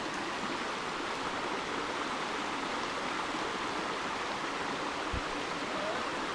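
A creek in the San Gabriel River East Fork rushes steadily, a dense, even wash of flowing water with no voices, unchanging from start to finish.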